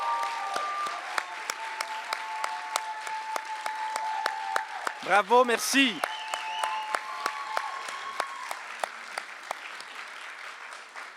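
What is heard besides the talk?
audience applause as teachers come on stage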